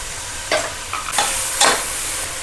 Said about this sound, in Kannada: ಇದು ಒಂಚೂರು ಫ್ರೈ ಮಾಡ್ಕೊಳ್ಳೋಣ ಮಸಾಲೆನೂ